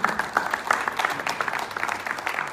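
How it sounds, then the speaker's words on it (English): A townhall meeting audience at Pretoria State Theatre, South Africa, claps in sustained, fairly close applause, many hands overlapping in a dense patter. "A round of applause, please."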